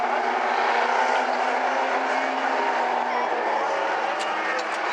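Vintage modified race cars roar around the oval at South Sound Speedway, a steady, loud engine drone restarting under a green flag, with a race announcer talking over the noise throughout.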